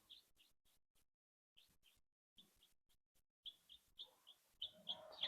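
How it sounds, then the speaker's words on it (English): Morning birdsong: short, high chirps come in sparse bursts separated by silence, then grow busier and slightly louder toward the end. The calls are quiet overall, with no voices. "I have birdsong this morning."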